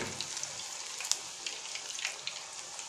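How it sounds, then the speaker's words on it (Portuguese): Green banana slices fry in hot oil with a continuous, moderate crackle and a scatter of small pops, like a light patter of rain, steady throughout. "Não põe um monte de uma vez. E deixa fritar aí."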